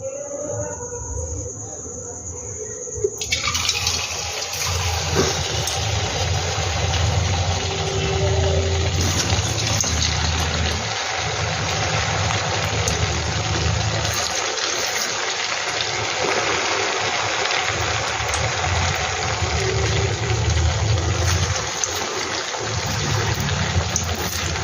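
Crispy potato snacks are dropped into hot oil. After a quiet few seconds, a dense, steady bubbling hiss of deep frying sets in and holds loud and even to the end.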